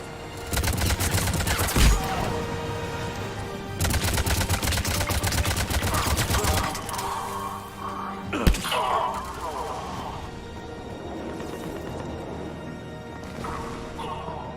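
Heavy gunfire and crashing impacts from a heavy attack in the video game Mass Effect 3, a continuous dense barrage with sharp louder blasts near two and eight and a half seconds, radio-style voices speaking over it.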